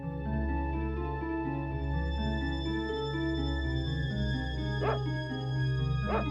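A dog in the Secret of Evermore video game gives a couple of short yips near the end, over a sustained synthesized music bed with steady tones.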